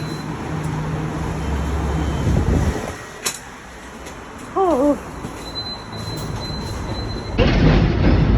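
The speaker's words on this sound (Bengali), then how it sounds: "দৌড়ে দৌড়ে ট্রাম ধরলাম আজকে" A Hong Kong tram rumbles along with wheels squealing and rattling, loud and close, easing to a quieter passage with a brief high-pitched wavering whine before the rolling noise swells again. People talk briefly.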